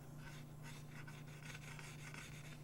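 Faint, steady scraping and rasping strokes as a tool cleans a NES circuit board around the chip pins during a CPU and PPU repair, under a constant low hum.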